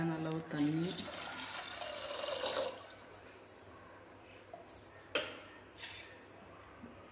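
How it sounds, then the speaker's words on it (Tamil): Water streams into a pressure cooker holding soaked toor dal for about two and a half seconds, with a voice briefly at the start. After that it falls quiet, broken only by a few faint clinks. "தேவையான அளவு தண்ணி"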